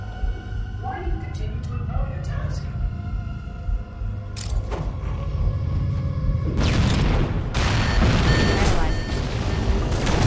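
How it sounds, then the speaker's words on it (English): Deep booming explosions and rumble in the Halo 2 game near fusion reactors, with isolated blasts early on building into heavy, loud continuous detonations in the second half. "We need a catalyst explosion to destabilize surrounding the fusion cells."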